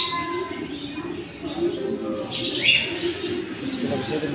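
Pigeons coo softly in a loft, with low murmuring calls and faint chirps under ongoing nearby talk.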